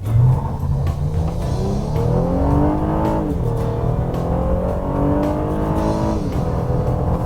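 A 2013 Honda Accord sedan with a 6-speed automatic transmission accelerates hard, its engine note climbing steadily in pitch through rising revs, then dropping at a shift before climbing again. The sound is loud, close and continuous, with no voices.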